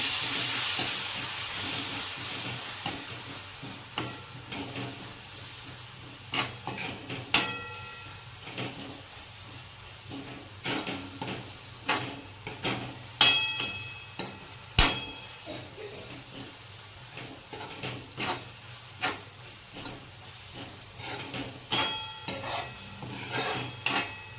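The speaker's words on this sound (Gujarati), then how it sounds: "હવે આપણે બધું મિક્સ કરી દઈએ" Fenugreek greens (methi bhaji) being stirred and mixed in a pan, with repeated sharp scraping and clinking strokes of the spoon over a constant steamy hiss, irregular and close throughout.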